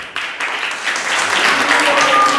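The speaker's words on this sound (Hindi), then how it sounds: "एक बार तालियां आप लोग बजाएं" An audience at a New Year celebration applauds a top student, steady clapping that rises quickly after a brief pause and stays dense and fairly loud to the end.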